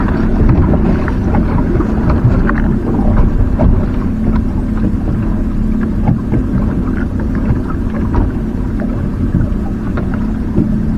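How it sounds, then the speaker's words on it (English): Low rumbling water and engine noise washes past continuously with wind buffeting the microphone as boats pass by on open inshore water off Panama City, no voices. "Got boats going by me."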